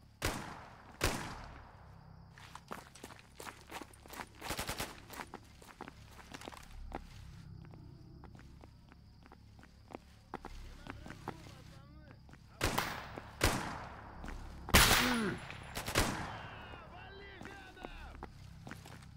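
Gunfire crackles in Stalker GAMMA, a run of sharp separate shots, some close and loud and others fainter, spread across the stretch with quieter gaps between them.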